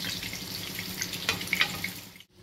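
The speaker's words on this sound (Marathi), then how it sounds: "हे वडे आपल्याला एकदम मीडियम फ्लेमवर एक गुलाबीसर कलर येईपर्यंत तळून घ्यायचे आहे।" Lentil vadas deep-frying in oil over a medium flame, a steady broadband sizzle with scattered crackles and pops, fairly close, ending abruptly in a brief silence.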